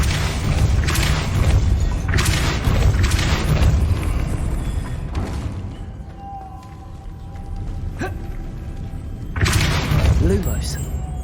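Depulso spell cast in Hogwarts Legacy, a series of loud booming thuds and crashing impacts that come in repeated bursts, with quieter game ambience between them.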